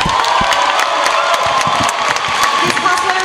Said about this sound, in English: Can we first give a humongous round of applause to everybody who graced the stage today?